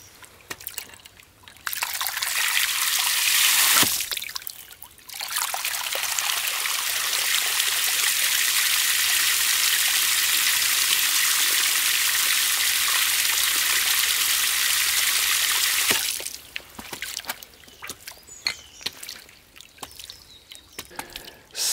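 Water gushes steadily out of a DIY ram pump's intake pipe as trapped air is purged, a loud broad hiss and splash that stops briefly, resumes for about eleven seconds, then cuts off to quiet trickling.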